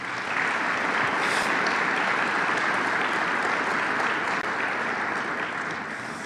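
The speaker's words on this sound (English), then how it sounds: "Rabbi Mendel, give him a round of applause" Dense, even applause from a crowd at a city campaign event runs continuously at a steady level, tapering slightly toward the end.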